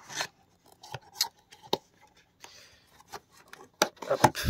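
A cardboard package holding a figurine is cut open, with irregular close snips and scrapes separated by short pauses, and no one speaking.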